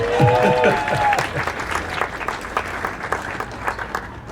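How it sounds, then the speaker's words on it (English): Audience applause at an evening event in a cafe and bike shop: a room of people clapping steadily for several seconds, with a voice speaking briefly at the start over the clapping. "Round of applause for Cycle East."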